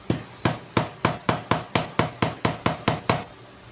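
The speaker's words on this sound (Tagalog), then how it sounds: "Pukpok nyo lang po ng dahan-dahan." Metal part being tapped gently into a toy AR16 rifle with a hammer over a protective cloth: about a dozen even, evenly spaced knocks in a steady rhythm, close and clear.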